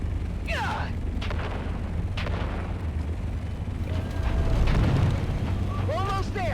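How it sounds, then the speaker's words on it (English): Grenades detonating in the video game Dune Awakening, with a heavy rumbling boom that swells in the middle under continuous battle noise and a constant low background roar. "On three, we grenade and move."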